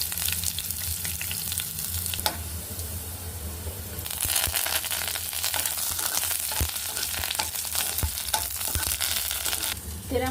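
Mustard seeds, cumin and fenugreek fry in hot oil, filling the whole stretch with a dense, steady sizzle dotted with sharp crackles and popping seeds, loud and close with no talk.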